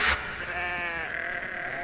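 Sheep bleating nearby outdoors in the UK countryside, one drawn-out wavering call lasting over a second against faint background noise, with no talk.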